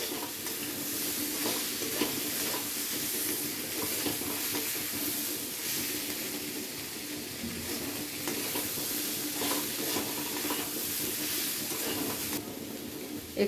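Potatoes and pointed gourd sizzling in a pan with salt and turmeric, stirred steadily: a dense, even frying hiss fills the whole stretch, with soft repeated scrapes of a spatula layered on top and no voice.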